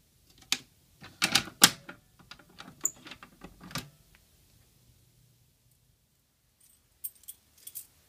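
An Allen wrench works on a double-action fire alarm pull station during reset, giving a cluster of sharp metallic clicks, taps and rattles up close, then a pause and a few more faint clicks.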